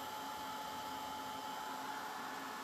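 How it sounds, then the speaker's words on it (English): A heat tool blows hot air across freshly poured acrylic paint on a round wooden door hanger, giving a steady, even whooshing hum at moderate level with no voices. "This is actually a heat tool, so it puts out more heat than a hairdryer does."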